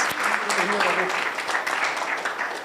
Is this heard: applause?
yes